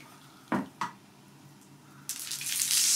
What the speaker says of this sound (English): They go right into the water, just drop them in gently